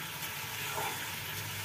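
Tadka tempering for besan dhokla sizzles in hot oil, a steady, close frying hiss that holds evenly for the whole short stretch with no talk over it.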